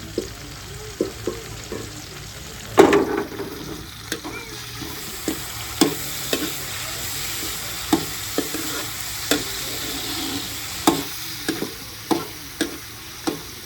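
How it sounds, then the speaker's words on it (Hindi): Chillies and tomatoes fry and get stirred in a pan, with a steady sizzle under repeated sharp scrapes and clinks of a spoon against the metal, roughly once a second. The sound is close, with one louder knock early on and no talk. "अभी हम मिर्ची ऐड कर रहे हैं और टमाटर"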